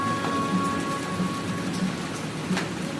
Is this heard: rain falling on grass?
yes